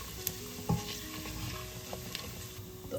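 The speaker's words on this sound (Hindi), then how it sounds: "थोड़ी देर इसको तेल के साथ ही भूनेंगे ताकि इनकी भी खुशबू रिलीज हो" Crushed black cardamom roasts in hot oil in a single pot for chole, giving a soft, even sizzle with occasional stirring knocks and scrapes close by.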